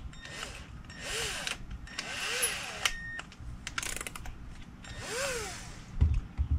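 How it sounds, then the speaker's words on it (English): A handheld drill with a 1/4-inch bit revs up and down repeatedly in short bursts, motor pitch rising and falling as it bores a hole through a cap, close by. "We then are going to drill a hole through our cap."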